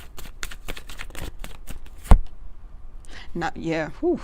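Tarot cards are shuffled in quick, crisp riffling bursts up close, then one card is pulled with a sharp snap, followed by a voice talking.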